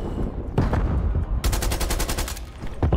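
Rapid automatic gunfire from Call of Duty Black Ops Cold War, a loud, close burst of evenly spaced shots that follows scattered single shots, with no talking.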